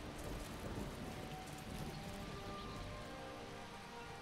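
Steady rain pouring in a video game, a dense even hiss of drops on surfaces with a faint low rumble beneath, soft and continuous with no voices.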